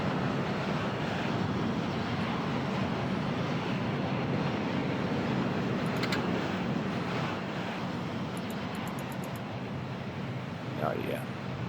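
In the air traffic control game I Am an Air Traffic Controller 4, an airplane's engines produce a steady, broad jet roar throughout, with a voice talking over the noise.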